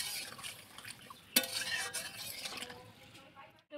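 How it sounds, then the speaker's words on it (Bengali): Water splashes into a pan of mango and shol fish curry with a sudden sharp hiss, then a few seconds of bubbling sizzle. The sound is quiet and close, with no talking. "কষানো হয়ে গেছে, এবার আমি জল দিয়ে দেবো।"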